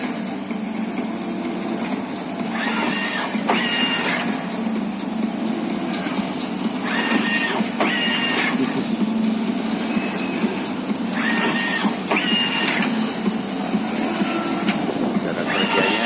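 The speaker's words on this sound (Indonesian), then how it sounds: "inilah mesin stretching, penjahitan rumput." A pitch stitching machine sewing grass into a stadium football pitch runs with a steady engine drone, broken by repeated bursts of mechanical clatter at regular intervals, close and continuous.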